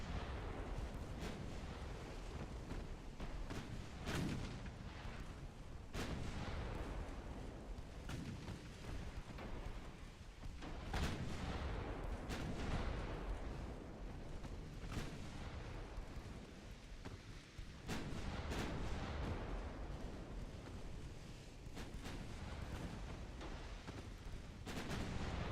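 Naval guns firing shells in the Ultimate Admiral Dreadnoughts naval battle game, a run of heavy booming blasts at irregular intervals over a constant rumbling roar of battle, with no voices.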